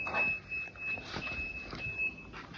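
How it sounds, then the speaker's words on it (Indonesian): A thin, high-pitched electronic buzzer tone from a fall-detection belt for the elderly beeps in long stretches with short breaks, over faint background rustling. "buzzer terus berbunyi sampai pasien bangun"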